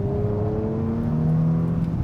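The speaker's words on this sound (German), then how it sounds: "Ich fahre jetzt mal so ein bisschen dynamischer hier in die Ecke." An Audi RS5 Coupé engine drones steadily as the car is driven briskly into a corner, its tone rising slightly with a smooth, continuous hum close to the cabin.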